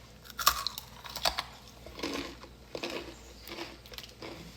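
Crunchy dehydrated food is bitten and chewed close to the microphone, giving several sharp crisp cracks followed by softer irregular crunching.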